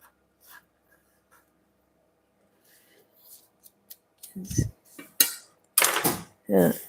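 Whisking Madeleine dough flavoured with vanilla in a bowl, with metal tines scraping and clinking against the sides in a few bursts that grow louder toward the end after a quiet start.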